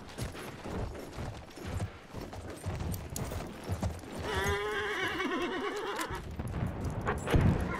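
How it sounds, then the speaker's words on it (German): A horse in the Battlefield 1 video game gallops with rapid clip-clop hoofbeats, then lets out a loud, drawn-out whinny midway through, with game noise around it. "Ich nehme sein Pferd."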